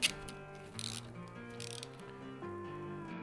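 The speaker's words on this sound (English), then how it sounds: "tighten the front bolts down." A wrench ratchets on motorcycle handlebar riser bolts in a series of close mechanical clicks and grinding turns, fairly quiet and uneven in rhythm, with no talking.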